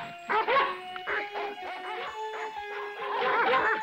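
Cartoon dogs bark repeatedly in a harsh, yappy run, several barks tumbling over each other at close range with whimpering yips mixed in, sounding like a pack set loose against wild animals.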